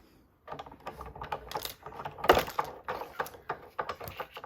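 A sewing machine running through fabric in short bursts of rapid mechanical stitching clatter, close and fairly loud, with handling noises in between.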